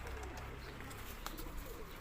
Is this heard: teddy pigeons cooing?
yes